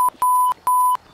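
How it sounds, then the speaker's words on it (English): A few sharp, steady electronic censor bleeps covering swear words sound in quick succession, loud and close, with short gaps between them. "I'm gonna beep all these swears"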